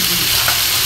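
Pomfret fish frying in a pan of hot oil, a steady, close sizzle with faint stirring or shifting, with no talk over it.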